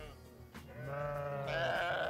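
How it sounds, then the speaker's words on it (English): Several sheep bleat in a wavering, drawn-out chorus, a couple of calls overlapping and rising in pitch toward the end, fairly close and clear with no talking. "Oh, I see some sheep coming in."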